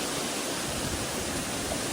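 Waterfall at Rock Garden in Darjeeling, a steady broadband roar of falling and flowing water that holds even and loud throughout with no voices.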